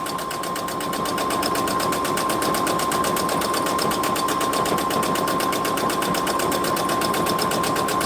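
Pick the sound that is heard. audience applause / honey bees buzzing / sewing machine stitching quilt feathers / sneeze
sewing machine stitching quilt feathers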